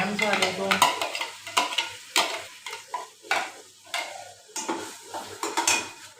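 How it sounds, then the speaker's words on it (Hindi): Masala spices for aloo being fried and stirred in a pan, a quick run of rhythmic scraping strokes of a spoon over a soft sizzle, close and clear with no talking. "इसको अच्छे से फ्राई करना है, भूनना है मसाले को।"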